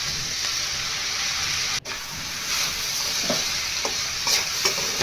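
A pan of leafy greens and cowpea sambar being stirred after a handful of grated coconut goes in, with a steady soft sizzle and hiss and occasional light scrapes and clinks of the spoon, close and with no talking.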